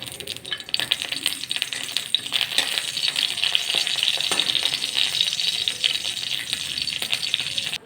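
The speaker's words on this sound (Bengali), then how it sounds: "কড়াইয়ে তেল গরম করে নিয়ে আমি বড়িগুলোকে প্রথমে ভেজে নেব" Bori lentil dumplings fry in hot oil in a wok, giving a steady, bright crackling sizzle with scattered pops, close and continuous throughout with no talking.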